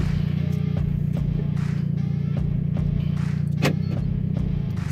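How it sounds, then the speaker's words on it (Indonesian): A Toyota Vios Gen 3 engine and exhaust hum low and smooth while driving on the road, a steady muted drone with occasional light knocks and one brief sharper rustle. "Knalpotnya sama sekali nggak ngeganggu di telinga ya knalpotnya."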